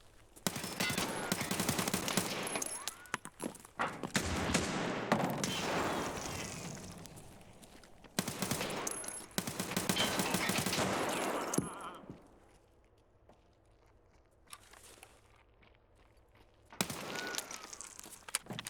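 Gunfire in a tactical shooter game on the Reserve map, long dense bursts of rapid automatic shots with echoing cracks, loud and close, separated by short quiet gaps before another volley.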